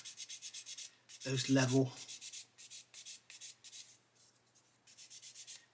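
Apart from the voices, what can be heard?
sanding plastic model kit seam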